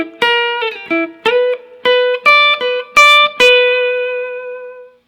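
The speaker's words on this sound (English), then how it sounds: "a lead style turnaround over those fast chord changes" Electric guitar plays a lead-style blues turnaround lick full of hammer-ons and pull-offs over fast chord changes, with bright, separate plucked notes building to a final ringing note, clear and alone.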